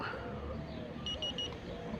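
A Fortuna pinpointer metal detector beeps three times in quick succession as it is held down to switch off, short tones under faint background noise.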